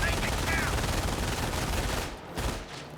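Rattling machine-gun and rifle fire from the World War II strategy game Company of Heroes 1, a dense, steady clatter that thins out near the end.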